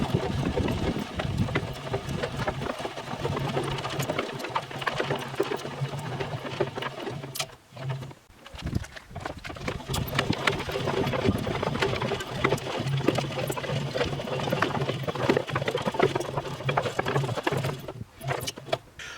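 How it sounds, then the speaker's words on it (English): A tractor engine idles steadily at close range while wire is spooled off, a continuous low drone with light rattling and clicking layered over it and a brief dip partway through. "So now I gotta get the tractor turned around and start spooling wire off"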